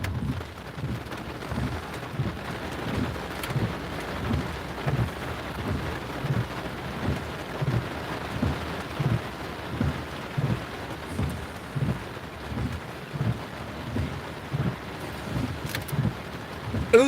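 A thunderstorm brings steady rain and a low rumbling that pulses in a regular rhythm, continuous and fairly loud throughout, with no voices.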